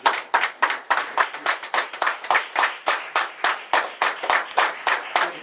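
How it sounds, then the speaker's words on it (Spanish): Audience at a Spanish-language tribute ceremony clapping in a steady, rhythmic beat, close and fairly loud, with no voices over it. "Un aplauso."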